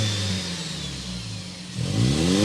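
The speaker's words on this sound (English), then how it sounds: "We need to go inside, start it up so you can hear that exhaust note." A 2025 Toyota Tacoma with the i-Force Max hybrid engine idles with a low, close exhaust hum, then swells into a rising rev near the end.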